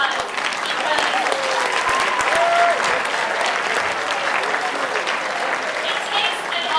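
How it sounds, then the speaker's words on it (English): Students at a school candidate speech event clap for themselves in sustained, dense applause that holds at an even level throughout, with faint voices and a few whoops mixed into the crowd. "Give yourselves a round of applause"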